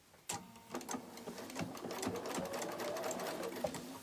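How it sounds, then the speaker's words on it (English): A sewing machine joins quilt strips together, its needle clattering close and quick in a steady run that starts with a sharp thump. "you're constantly stitching all the strips together"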